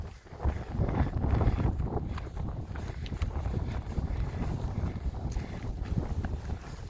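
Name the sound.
wind blowing on a hilltop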